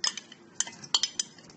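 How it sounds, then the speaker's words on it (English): Frozen watermelon cubes drop into a blender jar, giving a handful of sharp, light clinks and knocks in quick irregular bursts, close up and quiet, with no talking. "To make this ice cream, take a blender jar. Into this, I'll add watermelon cubes,"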